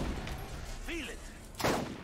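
A single close, loud gunshot bursts out near the end of a stretch of Borderlands combat, preceded by quieter background game sound and a brief rising-and-falling electronic chirp.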